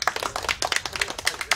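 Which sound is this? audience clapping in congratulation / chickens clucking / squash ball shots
audience clapping in congratulation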